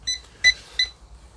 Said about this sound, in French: le voyant NCV qui clignote et qui bip